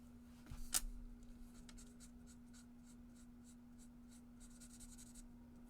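Faint marker strokes color in a balloon on a fold card with light Orchid Oasis ink, a soft scratchy scribbling repeating quietly in a steady rhythm with a brief louder tap near the start.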